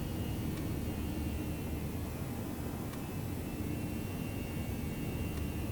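Steady roar of Airbus A319 jet engines at climb thrust in a flight simulator, a constant broadband rush with a faint high whine that holds even and unchanging throughout.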